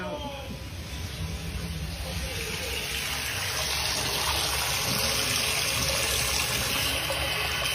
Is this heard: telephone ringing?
no